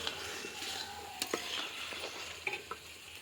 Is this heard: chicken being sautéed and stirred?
yes